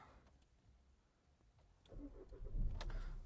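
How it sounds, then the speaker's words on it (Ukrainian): A quiet Volkswagen Touran interior hush, then the engine cranks and catches, settling into a close, low idle rumble that grows louder over the final second. "Давайте запустимо двигун."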